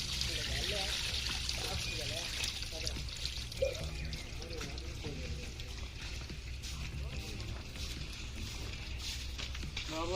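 Tamarind juice, about a kilogram of tamarind's worth, poured steadily into a large cooking pot for a Nellore-style fish curry, a continuous trickling splash running throughout beneath a person talking.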